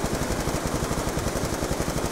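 A Galil rifle fires in a continuous, loud automatic burst in Call of Duty Zombies on the Buried map. The rapid shots blend into a dense, unbroken roar.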